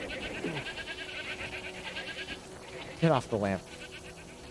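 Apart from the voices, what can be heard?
goat bleating in the video game Crimson Desert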